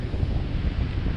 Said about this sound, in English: So really cold and windy today,